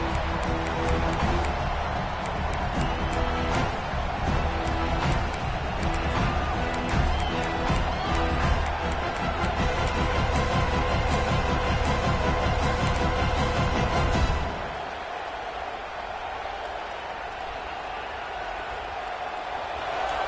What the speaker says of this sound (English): this home crowd is fired up and ready to make a difference today